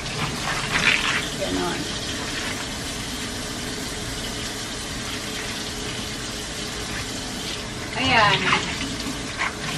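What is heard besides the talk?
washing a cleaning rag under running tap water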